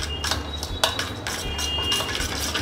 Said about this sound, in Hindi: तो हम इन सभी चीज़ों को अच्छी तरह से मिक्स कर लेंगे।